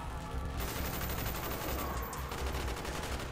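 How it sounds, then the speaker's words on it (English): Covering fire rattles through a street fight in Call of Duty Black Ops, dense overlapping machine-gun and rifle bursts in a loud, continuous barrage. "Bowman, Carlos, lay down covering fire."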